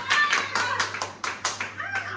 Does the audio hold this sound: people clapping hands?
yes